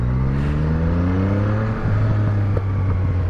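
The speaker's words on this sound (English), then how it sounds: "it has an aftermarket exhaust. And it's crackling and it's popping." A 2015 Yamaha MT-09 motorcycle with an aftermarket exhaust accelerates, its engine note climbing steadily in a loud, close, continuous roar, with a brief dip partway through as the revs rise again.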